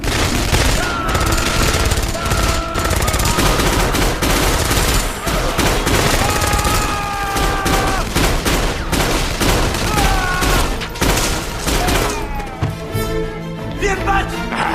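Rapid bursts of automatic gunfire in a 2013 French action film, dense and loud throughout, layered with a music score and sound effects.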